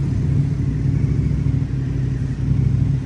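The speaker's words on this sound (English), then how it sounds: "Very noisy here because of motorcycles everywhere." Motorcycle engines drone steadily in a busy street beside a 180-year-old church in the Portuguese fishing village of Mira, a loud continuous low rumble with slight swells as bikes pass.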